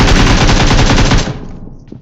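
A rapid burst of automatic gunfire in the BGMI battle royale game, loud and close, with dense repeated shots for over a second before cutting off into quiet.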